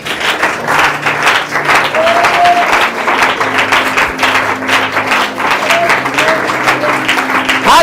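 A church congregation claps loudly and steadily throughout, a dense rhythmic applause with a faint melodic tone drifting over it.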